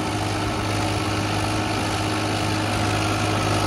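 A Farmtrac 50 tractor hauling a fully loaded sand trolley idles steadily, a loud, constant low diesel rumble with vibration and no voices.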